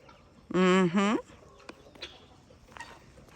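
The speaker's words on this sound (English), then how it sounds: "Mean Mama is still in here being her mean self with her 2 chicks" A mother hen with two chicks on a small farm gives a loud drawn-out call with a harmonic, wavering tone, then falls to quieter scattered clucks and peeps in the background.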